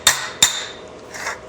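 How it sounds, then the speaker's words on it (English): Body hammer strikes sheet metal against a steel dolly while patching around a car's headliner bow, two sharp close taps with a brief metallic ring, followed by a softer scraping rustle. "There's a ringing sound coming from the dolly."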